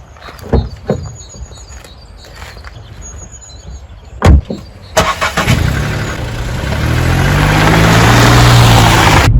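A 2021 Skoda Fabia petrol hatchback: a few thuds and clicks, a door shutting, then the small engine cranks and catches and settles into a steady hum that swells as the car pulls away and drives.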